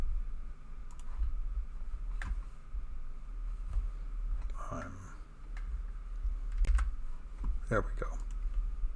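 Quiet, irregular clicking of keys on a computer keyboard, with short bursts of typing spread through the stretch and faint background murmur.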